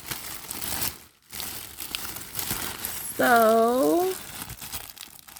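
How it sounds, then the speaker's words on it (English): Crinkly packaging rustles and tears as a Dooney & Bourke natural satchel is unwrapped, with soft close crumpling throughout, a brief pause, and someone speaking briefly over it partway through. "let's unwrap it"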